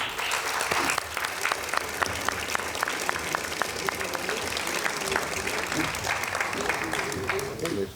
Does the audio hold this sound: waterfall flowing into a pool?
no